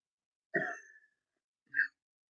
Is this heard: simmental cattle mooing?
no